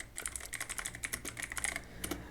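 Rapid clicking keystrokes on a computer keyboard, close and fairly quiet, in an irregular run of taps with no talking.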